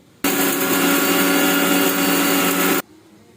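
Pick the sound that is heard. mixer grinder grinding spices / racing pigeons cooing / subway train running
mixer grinder grinding spices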